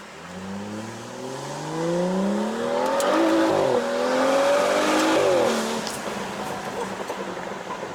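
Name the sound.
turbocharged BMW 335i F30 engine with stock muffler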